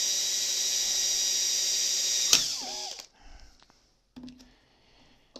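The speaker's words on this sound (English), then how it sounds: "I'm going to drill the pilot holes for the" A drill bores pilot holes in an RF attenuator held in a bench vise, a steady high whine that stops abruptly and spins down, followed by a few small clicks and taps.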